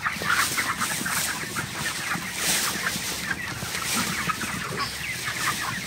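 Many broiler chickens cluck continuously as a dense, steady flock chorus, fairly close and loud throughout, with no talking.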